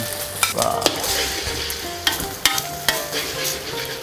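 Eggs frying as an omelette sizzle and crackle steadily in a hot, burnt pan, with scattered clinks and scrapes of stirring.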